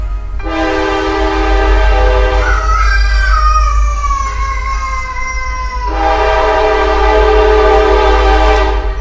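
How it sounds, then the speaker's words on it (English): A train horn blares loudly and steadily beside a house, a sustained multi-tone blast over constant low rumble, shifting pitch midway before settling again, with no talking. "This train is loud. It's like right next to me."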